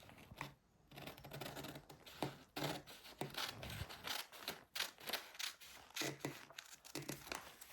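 Scissors cutting fabric for an off-shoulder sleeve, with a quiet series of irregular snips and rustles of cloth, close but faint.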